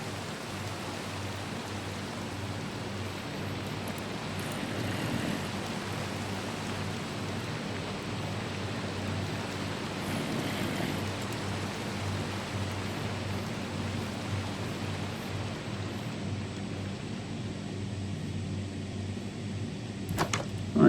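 Steady rain pattering down across a Minecraft survival world, a soft even hiss that holds at the same level the whole time, with a couple of faint clicks near the end and no voices.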